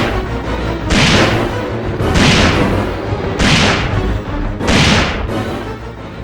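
Magnum gunfire in the Resident Evil 3 Nemesis video game booms out as four heavy, evenly spaced shots about a second apart, loud and close, each with a rumbling tail over continuous game ambience.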